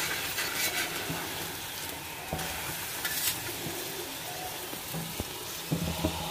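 Steady sizzling of an aloo paratha frying on a hot tawa over medium flame, a continuous crackling hiss with occasional small pops and clicks, close and even throughout.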